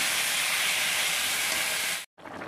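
Water is poured into a hot pan of fried potatoes and mushrooms and sets off a loud, bright steam hiss. The hiss holds for about two seconds, cuts out abruptly, then resumes more softly.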